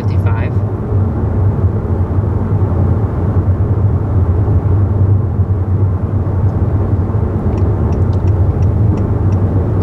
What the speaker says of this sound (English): Toyota fights back with the fact that it has the quieter cabin at highway speed.